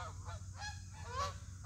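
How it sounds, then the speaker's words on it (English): A flock of geese honks close by outdoors, with repeated nasal calls overlapping in a loose, uneven rhythm over a low steady background hum. "a bunch of geese are kind of ruining the audio here"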